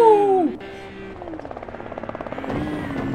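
A helicopter's rotor thumps rhythmically at a moderate distance in a video game, with an engine-like drone beneath it.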